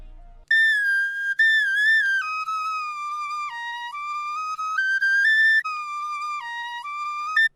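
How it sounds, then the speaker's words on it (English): A chopped flute sample loop from Splice plays a breathy, whistle-like melody in stepped phrases, clean and alone with short gaps between the chopped notes. "for the main melody on this loop was drag in this flute sample from Splice"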